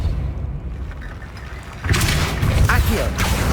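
Depulso spell cast in Hogwarts Legacy: after a low rumbling ambience, a sudden loud whooshing burst of force erupts midway and carries on as a dense, booming rush with crackling detail.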